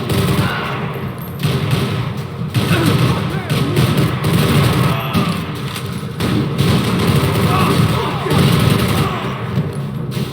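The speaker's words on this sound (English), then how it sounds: "Gunfire over Hoboken." Sustained gunfire rumbles in Max Payne 3 over Hoboken, a dense, continuous barrage of muffled shots and thumps. A voice talks over it throughout.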